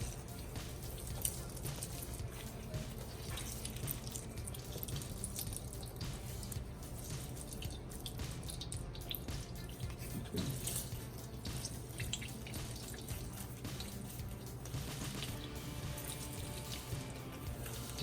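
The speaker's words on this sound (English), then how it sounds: "You put the mixture through a cheesecloth and you get all the liquid out." Liquid drips and trickles steadily as kebab meat mixture is wrung out through cheesecloth by hand, a continuous wet dribbling close by with no talk.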